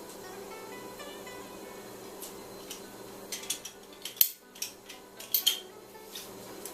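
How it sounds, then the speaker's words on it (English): A knife scrapes and clicks against fresh ginger being peeled, a few faint rasping strokes at first, then sharper clustered taps and scrapes close by near the end, with no talking. "I just peel the ginger first."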